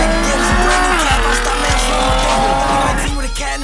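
A Dodge Charger does a burnout, its engine roaring steadily as the tires squeal and skid continuously, loud and close throughout, with no talk.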